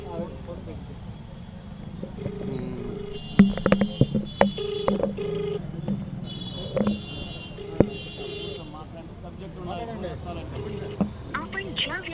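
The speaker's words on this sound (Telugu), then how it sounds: "ఇప్పుడు కూడా రాంగోపాల్ వర్మకు ఫోన్ చేస్తున్నాను" A phone call to a film director rings out unanswered, with repeated electronic ringing and dial tones over background voices and room noise.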